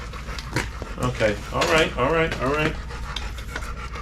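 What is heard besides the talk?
dog panting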